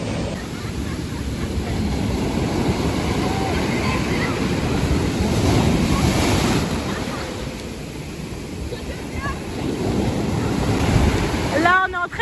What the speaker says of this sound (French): il y a des sacrées vagues.